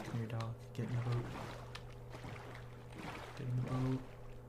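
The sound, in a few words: boat rowing in Minecraft video game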